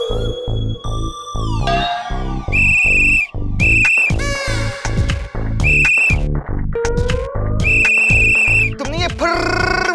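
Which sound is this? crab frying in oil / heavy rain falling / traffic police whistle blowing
traffic police whistle blowing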